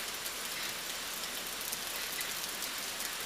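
Rain falls across the Amazon forest canopy as a soft, constant wash of droplets, moderately quiet and uniform from start to finish, no one speaking.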